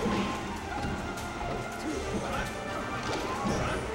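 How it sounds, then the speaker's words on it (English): Repeated forward smash hits from Falco in a Super Smash Bros. Melee doubles match, heard as sharp impact bursts over dense game effects and crowd noise throughout. "Falco's just going for a lot of F smashes."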